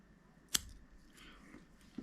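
A single sharp scissor snip cutting thread at the fly-tying vise while making a classic Bibio trout fly, close and crisp against a quiet room, followed by a faint small tick.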